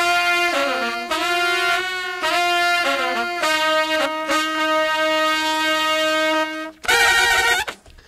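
Horn section of trumpet and saxophones playing in unison, a sustained run of bright brassy stabs and held notes with a louder, rougher burst near the end, steady and close.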